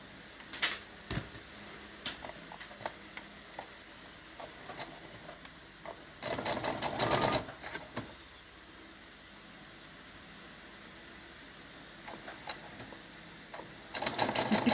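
A sewing machine stitches a wintry leaf quilt block in short mechanical runs, with one longer, louder burst midway and another at the end, separated by quiet pauses filled with faint handling clicks.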